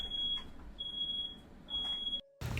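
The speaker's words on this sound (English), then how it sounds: "His smoke alarm literally went off" A smoke alarm goes off in a bedroom after a firework is lit indoors, sounding a loud, shrill, continuous electronic tone with brief dips before it cuts out near the end.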